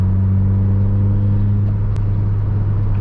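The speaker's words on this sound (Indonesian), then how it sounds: "lepas tambah gas" A Honda Mobilio's engine pulling steadily in fourth gear after the clutch is let out, a loud, close, even hum and drone heard from inside the cabin.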